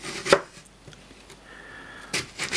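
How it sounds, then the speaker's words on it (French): A knife slicing an apple into thin slices: a few crisp, separate cuts, one early and a pair near the end, with quiet pauses between them. "Ensuite, je vais la couper comme ça. En fine tranche"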